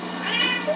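A house cat lets out a single drawn-out meow, close and clear, asking for food.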